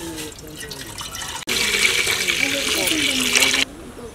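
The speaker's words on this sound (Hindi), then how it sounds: "भगोना लगा रहे उबालने को पानी डाल रहे।" Water gushes steadily from a tap into a cooking pot for boiling pasta, a loud rushing pour lasting about two seconds, with a person speaking over it.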